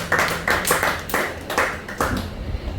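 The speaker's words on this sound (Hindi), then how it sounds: "सब तालियां बजाकर उनके नाम को ऊंचा करेंगे।" A church congregation in Dombivli claps along during worship, a steady rhythmic run of sharp, close hand claps with almost no voices on top.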